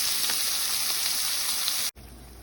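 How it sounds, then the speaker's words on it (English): Kielbasa sausages sizzle and fry in a hot pan of oil, a steady dense crackle that holds close and loud, then cuts off abruptly near the end and resumes more faintly. "nice hot oil, right? Drop in our sausages, right? Just want to get a nice char on both sides."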